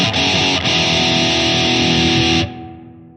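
Distorted electric guitar with a tone built in BIAS FX 2, run through a chamber reverb: a loud sustained chord rings for about two and a half seconds, then is cut off, leaving a fading reverb tail.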